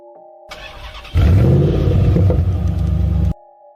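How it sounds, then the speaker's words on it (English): A car engine is started with a key in the ignition: a brief cranking whir, then the engine catches into a loud, steady close-up idle rumble that cuts off abruptly. "I put the key into the ignition and started the car."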